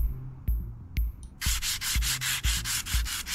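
Hand sanding of rails in a train station renovation video game: a few separate sharp scrapes, then a steady run of loud, rhythmic rubbing strokes at about two per second, with no voices.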